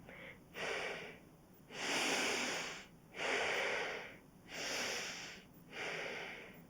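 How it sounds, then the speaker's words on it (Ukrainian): Slow, exaggerated belly breathing during a stress-management exercise, four long airy breaths in and out in a steady rhythm, close and fairly soft, with no talking. "І спробуйте трохи перебільшувати набирання повітря в живіт та випускання його."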